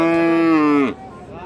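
A cow at a rural cattle market that sells Friesian and crossbred bulls and calves gives one loud, close, drawn-out moo that stops abruptly, leaving faint market background.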